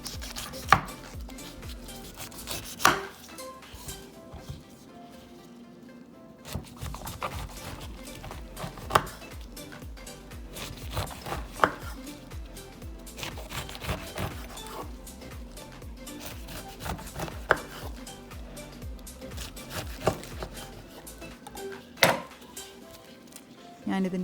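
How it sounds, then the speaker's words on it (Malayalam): A pomegranate is cut with a kitchen knife and its arils removed while preparing a salad, with sparse, sharp knocks on a board and faint clinks, as a person talks throughout. "ഇനി ഞാൻ മാതളങ്ങ മുറിച്ച് അതിൻ്റെ അല്ലി എടുക്കാൻ തുടങ്ങുകയാണ്"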